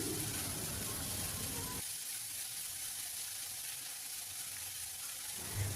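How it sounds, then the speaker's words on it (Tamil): Chopped onions sautéing with salt in a pan for aloo paratha stuffing give a steady, close hiss and sizzle that drops partway through and then swells again near the end, with no talking. "வெங்காயம் கொஞ்சம் வதங்கட்டும், அது வரைக்கும் நல்லா வதக்கிக்கலாம்."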